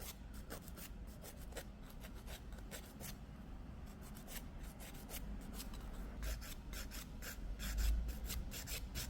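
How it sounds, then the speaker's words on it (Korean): A nail file rasps back and forth over a silk nail extension hardened with acrylic powder, making quiet, close, rapid, rhythmic scraping strokes with no talking. "여기 조금 뾰족 튀어나온 부분이 있어서 그 부분만 좀 갈아줄게요"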